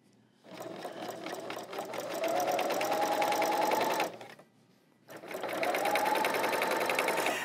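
An L890 serger stitches a cover stitch in two steady motor runs with a brief pause between them, each rising slightly in pitch as the machine speeds up, close and fairly loud.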